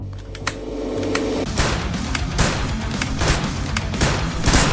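Wooden rifle shots fired during aim practice in a video game, a series of sharp gunshot cracks spaced irregularly over a steady background hum, loud and close.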